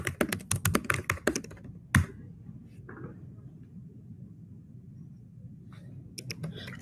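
Fingers type on a computer keyboard in a quick burst of close, crisp key clicks, then a single louder tap, a long quiet pause, and a few more keystrokes near the end.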